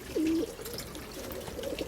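Pigeons coo inside a loft: one clear, close coo followed by softer, lower murmurs and a faint second call, with a light watery background.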